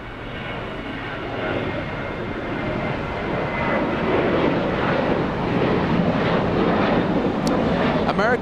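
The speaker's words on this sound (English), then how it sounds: "American 1924 flying to Las Vegas, Nevada, a 737-800." A Boeing 737-800 airliner at Los Angeles International Airport produces a steady, loud engine roar with wind rumble, sustained and broadband throughout without letup.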